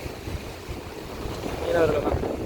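Sea waves wash onto the shore at a fishing village coast in the evening, a steady rolling surge that swells toward the end, mixed with gusty wind noise on the microphone.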